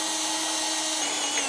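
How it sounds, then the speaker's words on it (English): A power drill bores through the pinch welds of a 2024 Chevrolet Equinox while a Blue Ox base plate is fitted, giving a steady, close, high-pitched whine that holds evenly throughout with no talk. "You're drilling through pinch welds, so if you need to, you can do a smaller pilot hole and then work your way up."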